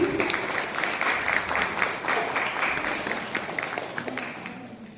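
Audience applause at the ceremony of the Mechukha kayaking challenge, a moderate, even wash of clapping from a gathered crowd that carries on for several seconds and tapers slightly toward the end.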